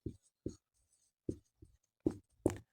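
Equations are written by hand for a class 10 maths lesson, heard as short, close scratchy pen strokes in separate bursts against near silence.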